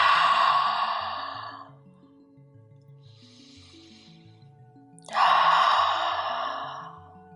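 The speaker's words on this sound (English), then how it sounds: "we'll exhale through the mouth" Two audible exhalations through the mouth during a morning yoga flow, each a soft breathy whoosh, separated by a quieter pause, with gentle background music underneath.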